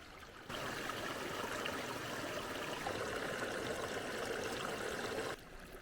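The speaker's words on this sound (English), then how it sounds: "there's a nice little creek" A small creek flows steadily along a mountain backpacking trail near Glen Pass in the Sierra, a continuous close rushing and trickling of water that begins abruptly and cuts off near the end, with no voices.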